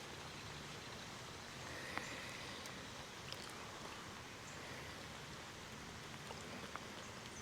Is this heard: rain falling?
yes